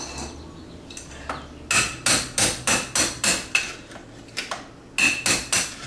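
Sharp metallic hammer blows strike a part during removal of a dishwasher, a close, loud run of about a dozen evenly spaced knocks after a couple of scattered hits.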